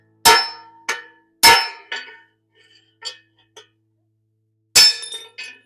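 Hammer striking a punch to drive a steering stem bearing out of a 2004 Honda CR250, with sharp metallic clangs in an irregular series, some loud and some lighter taps, ringing briefly in a quiet space.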